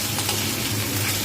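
Ridge gourd sizzles and crackles steadily in a hot frying pan for a bengali jhinge shukto, a continuous bright frying hiss close up, with faint stirring and no voices.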